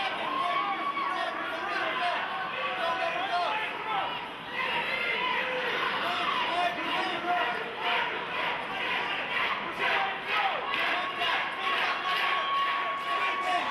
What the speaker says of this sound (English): You get the crowd behind us chanting Nick, Nick, Nick.